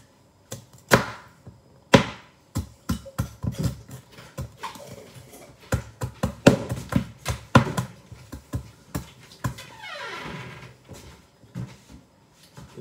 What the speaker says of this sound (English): Don't chop it up too much.